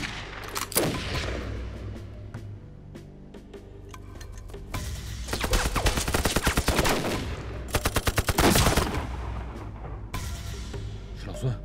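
Bursts of gunfire in an anti-Japanese war action TV drama battle scene: scattered single shots, then dense rapid machine-gun volleys, loud and close, with shouting voices in between.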